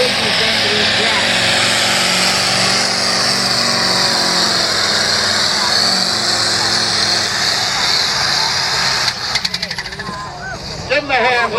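A tractor engine roars loud and steady during a truck and tractor pull, a continuous high-revving drone that holds, then breaks into choppy stuttering bursts near the end, while an announcer talks over it.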